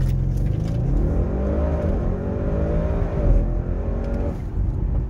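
A 2016 Audi RS6 C7 Performance accelerates hard, its engine note climbing steeply through several gear changes, loud and close, over heavy road rumble.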